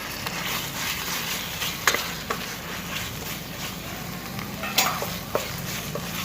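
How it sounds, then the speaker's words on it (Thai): Beef stir-fried in oil with curry paste for a Thai dry curry with mushrooms: a constant close sizzle with rhythmic spatula scrapes and a few louder knocks against the pan, no talking. "เราจะผัดกับเนื้อให้เครื่องแกงเข้ากันได้ดีนะครับ"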